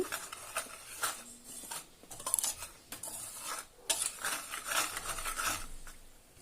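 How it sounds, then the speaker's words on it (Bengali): A utensil stirs dry batter ingredients, turmeric and semolina, in a bowl for bokful fritters, giving close clinks and scrapes in bursts with short pauses between, no talking. "শুকনো উপকরণ ভালো করে মিশিয়ে নিচ্ছি"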